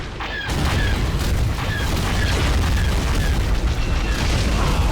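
An Imperial artillery strike pounds a rebel entrenchment base on Sulon in a Star Wars video game, with one loud boom kicking off a sustained roar of blasts and rumbling, faint whistling shells streaking overhead throughout.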